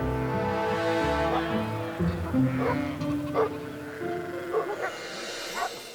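Sheepdogs guarding a herd bark an alarm in short bursts over a steady droning tone, a few sharp yaps spaced across several seconds at moderate distance.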